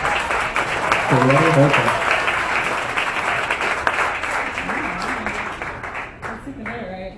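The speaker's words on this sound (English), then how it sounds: "a round of applause for Duretti Hirpa, please" A conference audience applauds a speaker as she is introduced, a full, even round of clapping that runs throughout, with a voice speaking over it and the clapping tapering off toward the end.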